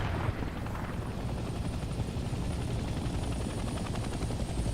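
Helicopter rotor thumping in the Vietnam-era shooter Hell Let Loose Vietnam, a steady loud chopping drone with low rumble that persists throughout, with battle noise mixed in and no talk.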